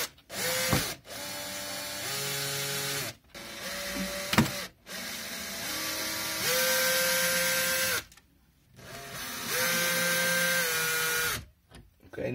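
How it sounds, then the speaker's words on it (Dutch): A power drill (boormachine) unscrews four small screws, the motor whining in several sustained bursts with short pauses between them, close and loud. "Ik ga even de boormachine halen."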